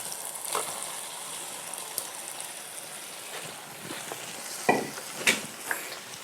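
Boiled papaya is stirred into oily fried spices with onions in a pan, giving a soft sizzle under scraping spoon strokes and a few louder clattering stirs near the end, with no talking.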